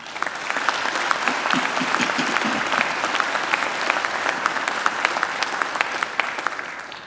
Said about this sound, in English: Professor Ridley deserves another great round of applause.